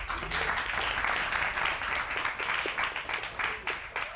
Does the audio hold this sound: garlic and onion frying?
no